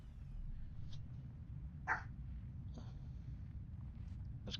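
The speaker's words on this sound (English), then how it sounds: "This cricket's gonna bark at you no matter what, Charlie." A creature in the game No Man's Sky gives a few faint, short bark-like calls over a low steady background hum, with one call standing out slightly louder.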